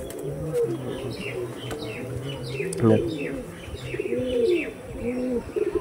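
Blue-beaked Madras pigeons coo in soft repeated phrases alongside light chirps, with one brief louder flutter near the middle, all close by and steady against a busy loft background.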